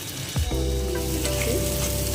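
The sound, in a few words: onions and green chillies frying in a pan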